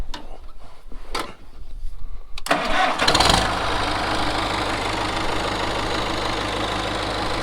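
A Farmall M tractor repowered with a Cummins 4BT diesel cranks with a few short bursts, then catches and settles into a loud, steady near idle that runs to the end with no talk.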